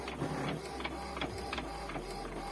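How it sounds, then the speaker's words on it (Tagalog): Office printer printing a two-page document sent from a cellphone, with repeated mechanical whirring and clicking passes of the print head over a steady motor hum, close and moderately loud, no voices. "Nag-send na siya ng uh, document doon sa ating printer. Ayan, and then nakikita ninyo, printing page 1 of 2."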